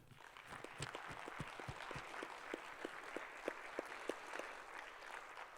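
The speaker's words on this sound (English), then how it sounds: "Please join me in giving them a well-deserved round of applause" A panel audience at a Cheyenne data center event claps for the speakers. The applause is faint and distant, a steady soft patter with a few sharper individual claps rising out of it.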